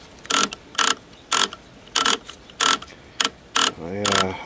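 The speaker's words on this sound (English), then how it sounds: "I sprayed all the controls, worked them back and forth." Controls on a 1970 Sony Trinitron KV1210 television, sprayed with control cleaner, being worked back and forth, giving seven or eight close, evenly spaced mechanical clicks and ratcheting bursts, the last one longer and buzzing.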